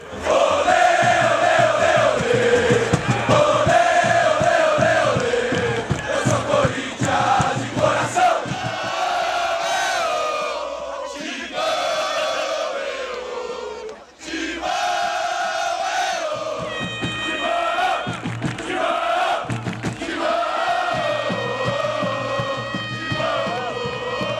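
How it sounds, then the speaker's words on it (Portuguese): Corinthians fans chant and shout in unison at the Maracanã stadium in 1976, a dense, loud crowd roar with rhythmic surges and cheering that fills the whole stretch. "A torcida do Corinthians cantava aquela música Vamos Corinthians"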